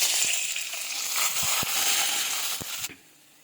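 Curry leaves sizzle and spit in hot oil alongside garlic, ginger and green chilli for a cheemapuli pickle, a busy frying hiss with a few sharp pops, stopping abruptly near the end.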